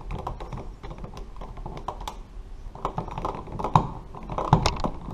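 An electrical power outlet being screwed back onto its mounting screws in a wall box, with a steady run of small dry clicks and scrapes close by, a few sharper knocks near the end, and no talking.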